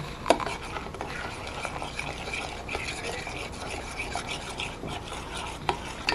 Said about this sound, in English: Stir it up the best you can.